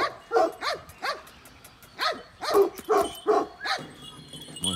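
Dogs bark in a series of sharp, irregular yips and barks, moderately close and spread over several seconds, with some whining between them.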